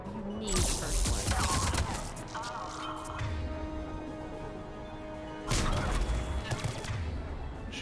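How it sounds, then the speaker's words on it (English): Gunfire during a Mass Effect 3 firefight, dense bursts of shots and crashes throughout, loudest at the start and again near the end, with game music and effects mixed in. "Shooting at me now. There's always somebody shooting at me."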